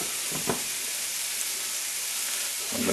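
Onions with a pinch of salt sauté in a hot pan for hamburger steak, giving a steady, even sizzling hiss. One brief clatter comes early and the frying grows slightly louder at the end.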